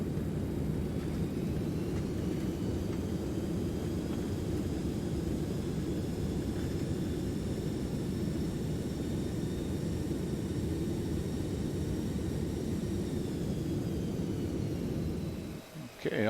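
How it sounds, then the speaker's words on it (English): Aerosoft DC-8 airliner with thrust reversers engaged after landing in a flight simulator game, giving a loud, steady jet roar and rumble that holds continuously, then drops off sharply at the end. "Okay, reverser's engaged."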